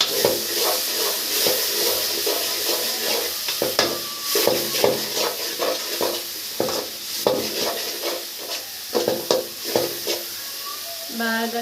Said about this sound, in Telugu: రెండు టీ స్పూన్లు ధనియాల పొడి వేసుకోవాలి వేసుకొని బాగా కలిపేసుకోవాలండి